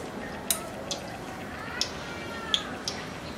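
Oil dripping from freshly fried Hyderabadi chicken pieces, falling as a few sharp, separate drops at an irregular pace over a soft, steady kitchen background.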